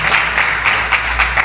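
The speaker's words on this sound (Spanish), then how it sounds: "Denle una ofrenda de palmas al Señor" A church congregation applauding, dense rhythmic clapping in steady pulses of roughly three per second, loud and close, with no talk over it.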